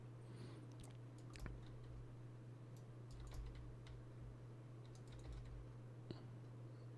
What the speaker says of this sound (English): It is a keyboard that requires a special program and is split in two